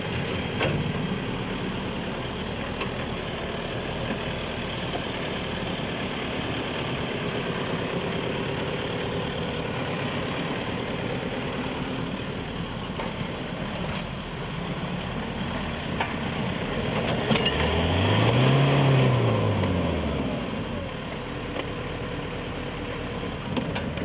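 A Land Rover Defender Puma 110 crawls through an off-road 4x4 club challenge course, its diesel engine a steady low rumble that swells briefly louder near the end, with faint clanks and no talking.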